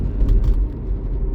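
Inside a moving car at night, a low steady rumble of engine and road noise, close and continuous with no voices.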